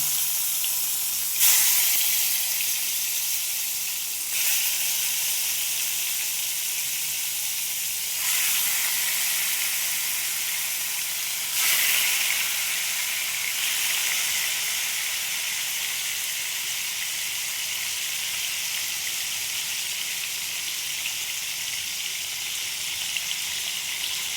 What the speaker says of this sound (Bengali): এবার আমি এক একে সব মাছগুলো ভেজে নেব।